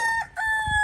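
A rooster crows loudly and close, a sustained strained call, with low clucking from other chickens underneath.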